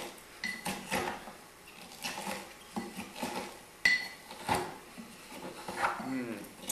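A muddler pressing Granny Smith apple and celery in a glass, giving repeated close knocks, clinks and grinding thuds against the glass while someone talks over it.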